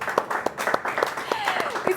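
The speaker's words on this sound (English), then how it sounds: "we have to clap for our audience" Audience clapping at a youth empowerment talk, scattered distinct claps in a steady rhythm alongside ongoing speech and a faint whistle-like tone.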